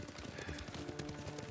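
Horse hooves clopping at a steady riding gait in the video game Ghost of Tsushima, a quick rhythmic patter of hoofbeats that continues throughout, close and moderately quiet, with no talking.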